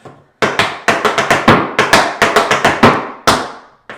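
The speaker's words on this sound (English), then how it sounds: "you can add a flap at the top of the maxi forward" Tap shoes strike a hard floor in crisp, loud, rapid clusters of metallic taps during an intermediate tap routine set to Jingle Bell Rock, with flaps and brushes forming uneven rhythmic bursts.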